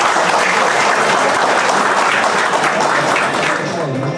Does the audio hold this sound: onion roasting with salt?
no